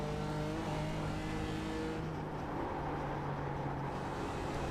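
A steady, loud racing-car engine drones continuously from inside the cockpit in the iRacing game, 4 Hours of Charlotte event, holding a high whine with shifting pitch and no voices.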